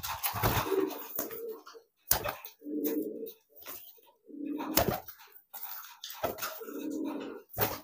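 Low, rolling coos from a giring pigeon repeat several times close up, separated by brief pauses and a few sharp clicks.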